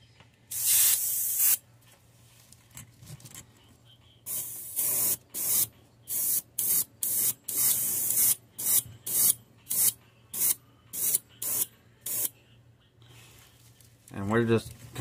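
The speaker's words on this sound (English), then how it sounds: "we're just kind of random spraying this, except for on the back" An airbrush sprays paint onto a fishing lure being painted in a perch pattern, first in a long hiss, then in a quick run of short, sharp bursts with pauses between, loud and close.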